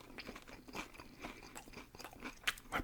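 Crisp, close crunching of nacho chips being bitten and chewed, a string of sharp irregular crackles with louder bites near the end, no talking.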